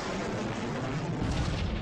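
A starship fires a missile in the space combat game Sunrider, a dense, continuous rumbling blast that swells slightly toward the end with no gaps.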